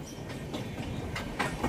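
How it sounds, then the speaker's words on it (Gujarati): A train rolls past close by with a steady loud rumble and rhythmic clickety-clack of wheels over rail joints; no one talks. "આ ટ્રેન જાય તો પછી હાલીએ."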